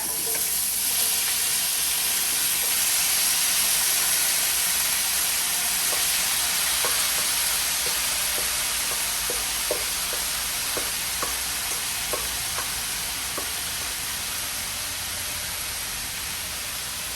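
Korean bulgogi beef fries over high heat in a very hot pan, a loud, dense hiss that eases slightly over time, with scattered clicks and scrapes of stirring in the second half.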